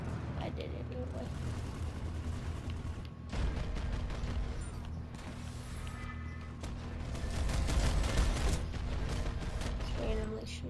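Gunfire in Planetside 2, with rapid weapon bursts and heavier explosive thuds coming in waves at close to moderate range, layered with other battle noise and a player talking over it.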